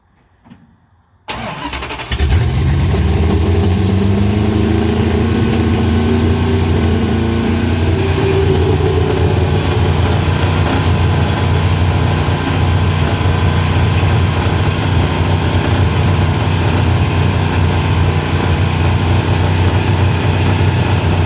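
A 1968 Dodge Sweptline pickup engine cranks briefly after near silence, then catches and runs loud and steady nearby, a continuous rough roar with the throttle prone to sticking wide open.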